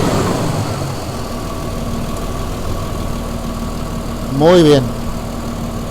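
A Toyota Land Cruiser 80 series engine (1990–97), being checked for a missing coil spark, idles with a steady low rumble throughout, close by, while a person speaks briefly over it.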